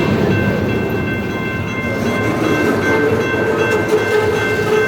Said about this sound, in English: This train, operating as CSX D006, is composed of 32 ancient modified gons with positioning cars on the rear.